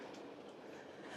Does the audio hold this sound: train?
yes